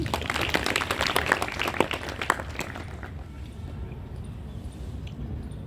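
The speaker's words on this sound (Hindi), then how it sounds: "तो एक बार ताली बजा दीजिए" Scattered clapping from an audience at a yoga talk at a women's college, louder and denser for about three seconds before fading to a low murmur of room noise.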